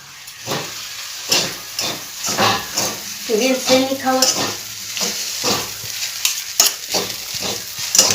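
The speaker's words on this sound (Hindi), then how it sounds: "एक तैयार होते हमार चाउमीन।" Chow mein stir-fries in a hot pan in a village kitchen, steady sizzling and hissing broken by repeated scraping strokes of a utensil, with a short voice passing midway.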